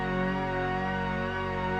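An 80s-style synth patch, run through a Roland Dimension D chorus, holding one steady, rich, thick sustained chord that is loud, close and unbroken with no voices.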